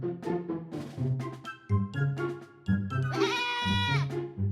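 Sheep bleat repeatedly in close, loud, wavering calls, several overlapping cries in quick succession with short pauses between them.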